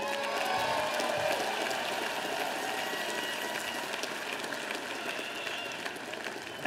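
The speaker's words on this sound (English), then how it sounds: "we should thank them with a round of applause" Steady, dense applause from a large commencement audience fills the whole stretch, honoring community college graduates at a 2014 graduation ceremony in New York; the clapping stays even and sustained throughout.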